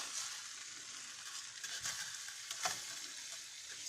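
Rice being spread and toasted in oil in a pan gives a steady close sizzle with soft scraping and stirring strokes, a few louder clicks of a utensil near the end, no voices.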